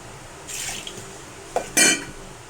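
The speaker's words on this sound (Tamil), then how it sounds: "உங்களுக்கு எவ்வளோ தண்ணி தேவைப்படுதோ அவ்வளோ ஊற்றிக்கோங்க" Horse gram cooking water for rasam poured from a vessel in a home kitchen, a short splashing pour with a faint metallic clink, brief and close.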